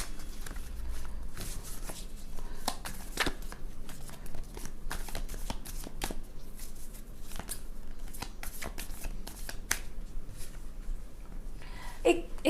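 Soft rustling, tapping and sliding of tarot cards being handled and drawn on a table, close and intermittent with irregular light clicks.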